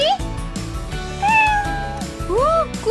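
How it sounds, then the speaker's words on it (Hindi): A pet cat meows repeatedly at close range in a home during a daily routine, several short rising and falling cries spaced across a few seconds over steady background noise. "वो मेरी बिल्ली।"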